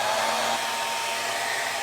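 A hair dryer running on its cold setting gives a steady, loud broadband rush of air that stays even throughout, close to the listener, with no voices.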